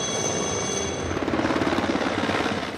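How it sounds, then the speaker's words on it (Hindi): Military helicopters circling overhead above a desert battlefield: a steady, loud rotor roar with a faint rhythmic chop building midway, continuous throughout. "हेलीकॉप्टर।"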